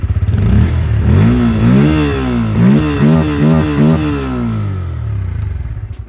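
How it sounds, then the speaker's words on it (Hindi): A Bajaj Pulsar N160 motorcycle exhaust roars nearby as the engine revs up and down in repeated swells, then settles back toward a rumbling idle. "मुझे इसकी एग्जॉस्ट की साउंड बहुत प्यारी लगी है"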